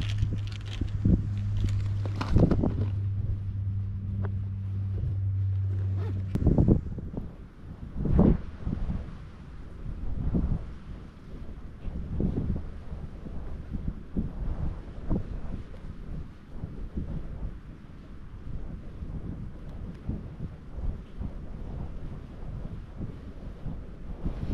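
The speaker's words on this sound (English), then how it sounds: "Not with this wind though, I can tell you that." Strong wind buffets the microphone at a fishing spot by the water, a steady low rumble with gusting swells that runs unbroken for the whole stretch, with no talk over it.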